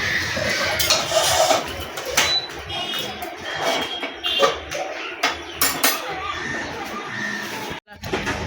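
A pot of boiled green bananas is handled on a stove with repeated metallic clanks and clinks of pot and utensils, close and busy, with light background sounds throughout.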